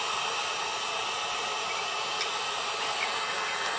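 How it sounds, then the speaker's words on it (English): A heat gun blows steadily on the corner of a MacBook Air A1370/A1465 screen, a constant close whooshing hiss of hot air that holds level throughout. "When you get to the corner, hold it like this. Heat the corner up."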